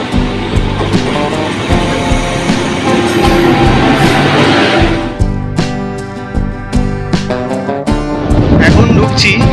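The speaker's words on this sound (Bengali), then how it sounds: "আন্দুল থেকে আমাদের এখন ট্রেনটা ছাড়লো" A Howrah to Digha local train pulls away from Andul station, giving a loud continuous rumble with rhythmic rattling of wheels and carriages and a brief high squeal.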